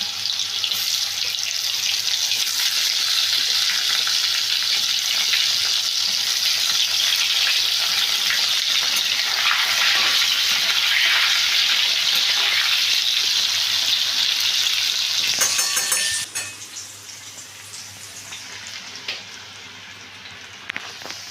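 Potatoes and eggplant fry in a pan with a loud, dense, steady sizzle like rushing water that runs unbroken for about fifteen seconds, then abruptly drops to a quieter, sparser crackle.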